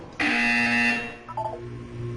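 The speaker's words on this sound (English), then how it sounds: "When you hear the buzzer, look down at the floor." A flat electronic buzzer from the video game Portal 2 sounds once, a loud steady tone lasting under a second, then a brief softer pair of tones follows over quiet room ambience.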